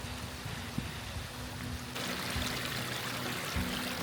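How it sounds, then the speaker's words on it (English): River water runs steadily as a continuous broadband wash during a barefoot river crossing on a hike in Iceland, growing louder and closer partway through, with no talking. "Crossing a river like this felt insane."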